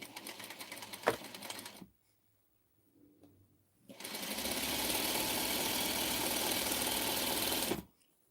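A long arm sewing machine runs in a short stitching burst, pauses in near silence, then runs again in a steady, fast mechanical whir for about four seconds before stopping abruptly.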